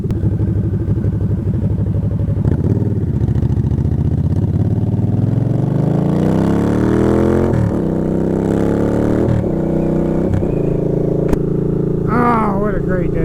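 Motorcycle engine running steadily while riding, its pitch rising and falling through gear changes and acceleration, with a voice speaking over it throughout.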